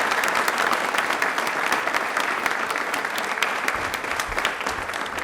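A studio audience on a televised quiz show claps loudly and steadily for the armed forces, a dense sustained round of applause with no talking over it.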